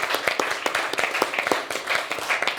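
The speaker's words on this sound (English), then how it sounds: "a round of applause for her" A small audience applauds a performer at a student awards event, giving brief, scattered hand claps that sound close and fairly light.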